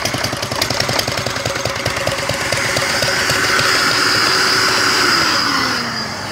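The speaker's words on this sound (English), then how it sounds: "that's a loop scavenge through the valves, single cylinder diesel, running on a shop vac" A Lister Petter single-cylinder diesel converted to a loop-scavenged two-stroke with valves, running on a shop vac: a close, loud, rapid, even chugging beat that settles into a steady drone.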